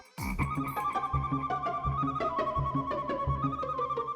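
A comic frog-croak sound effect from a TV comedy serial repeats in a quick, bouncy rhythm with a sustained tonal whine underneath, loud and close with no talking.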